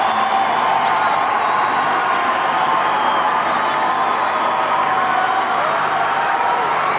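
A stadium crowd roars steadily after the men's 10000m Olympic final in Athens in 2004, a continuous, dense wash of cheering and whooping from a huge audience, sustained throughout at even loudness.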